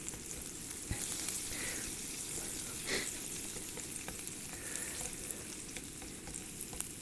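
Onions frying in a pan at a campsite on an autumn hike produce a soft, continuous sizzle, faint and steady, with a couple of small knocks.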